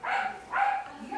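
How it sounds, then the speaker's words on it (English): A pet dog barks twice indoors during a Kyocera Event phone unboxing, the short muffled barks moderately loud with a softer yip after them. "Sorry about my dog."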